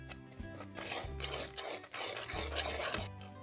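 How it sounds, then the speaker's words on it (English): A spoon stirs butterscotch pudding in a pot, a quiet steady scraping and swirling with a faint rhythmic pulse, close and without any voice. "Now add it into the pudding and stir that up quickly."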